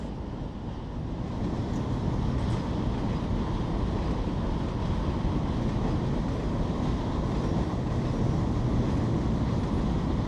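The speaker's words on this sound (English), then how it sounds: "Back over here in Bakersfield, our supply train is making its way onto the track." A supply freight train moves onto a track in the Bakersfield rail yard, heard as a steady, broad rumbling roar at moderate distance, continuous and unchanging with no voices.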